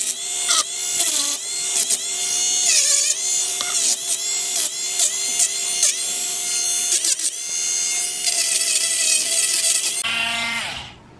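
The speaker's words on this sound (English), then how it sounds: "going to fix that with a Dremel" A Dremel rotary tool grinds a burr off the bolt of a Hatsan Blitz .22 air rifle, a loud, close, high-pitched whine that pulses as it bites the metal, then spins down at the end.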